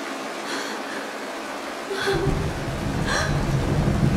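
Rain begins falling in a Honkai Star Rail game cutscene, a soft hiss that thickens into a steady patter after about two seconds, with brief voiced exclamations rising above it.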